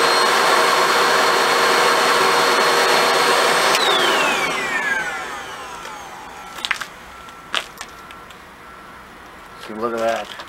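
An upright canister vacuum cleaner runs with its filter removed, giving a loud, steady hiss and whine that winds down in falling pitch partway through, followed by a few knocks and a quieter stretch.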